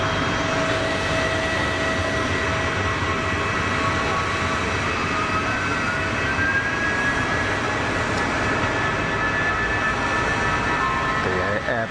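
An Airbus airliner with IAE V2500 engines produces a steady, fairly loud engine roar with a faint rising whine at an airport.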